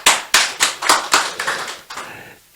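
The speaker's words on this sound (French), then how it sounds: "Alors, un tonnerre d'applaudissements," Studio audience applause for Amina, a quick run of loud, sharp claps that gradually thin out and fade over a couple of seconds.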